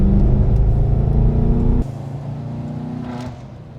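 Inside the cabin of a Stage 3 tuned 2019 BMW M5 F90, a loud, deep engine drone fills the space, then drops abruptly to a quieter, steady rumble as the throttle eases, with no one talking.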